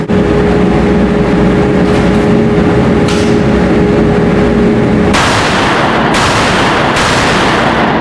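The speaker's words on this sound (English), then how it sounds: "Now we got to start really taking care with our trigger press." Gunshots are fired at a target, loud sharp reports sounding in a quick sequence against heavy wind buffeting and continuous outdoor rumble.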